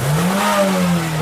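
A Suzuki Grand Vitara's engine held at high revs under kickdown, loud and near, its strained drone climbing a little then dipping briefly, with no talking over it.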